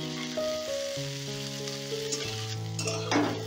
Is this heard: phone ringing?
no